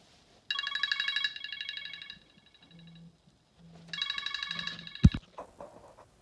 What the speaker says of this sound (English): My work phone was ringing.